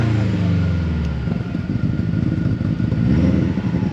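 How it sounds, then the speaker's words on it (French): A Subaru Impreza engine with anti-lag and launch control revs hard against its limiter, a loud, steady bouncing drone held close by with rough pulsing. "On va taper à fond et il va se bloquer à 5008."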